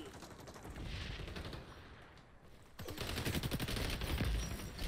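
M4 rifle gunfire in the shooter XDefiant, with quick bursts of fire close and loud in the second half, following quieter game ambience and muffled shots at the start.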